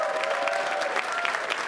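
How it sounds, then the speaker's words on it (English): Comedy club audience applauding throughout, a dense continuous wash of clapping from a crowd, moderately loud and unbroken for under two seconds. "How about a round of applause for Marianne?"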